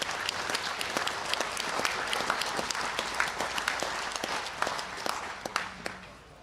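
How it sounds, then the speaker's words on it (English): An audience at lawn bowls finals day of the World Bowls Champion of Champions applauds the athletes: steady, fairly dense clapping with distinct sharp individual claps standing out, sustained at moderate level throughout. "Big round of applause for all our athletes to start proceedings."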